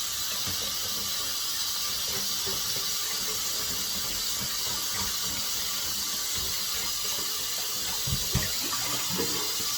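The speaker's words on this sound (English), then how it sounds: "I washed these fiddleheads once, dumping the water" Fresh fiddleheads being washed in water in a kitchen, a steady hiss of running and splashing water with irregular clattering swishes throughout, close and fairly loud with no talking.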